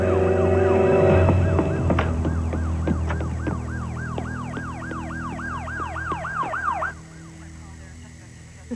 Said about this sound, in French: Ce sont peut-être les sirènes qui lui ont fait peur.